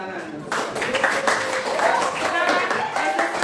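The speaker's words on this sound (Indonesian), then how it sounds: "Ya, kasih tepuk tangan." A school class claps hands together after a coding lesson, a dense patter of many small hands with children's voices talking over it throughout.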